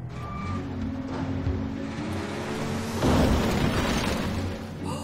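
A large truck backs up with a steady reversing beeper over its low engine rumble, the beeps repeating evenly before a louder rush of engine and air noise swells in.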